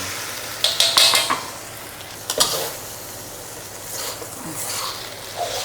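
Glutinous rice being stir-fried in a wok for lor mai gai, with scraping and clinking of a metal spatula against the pan in a few sharp bursts over a soft background sizzle.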